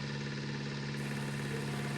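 Forage harvester engine in Farming Simulator 19, held at full throttle on the hand throttle while chopping maize for silage, a steady loud drone with a constant low hum and no pauses.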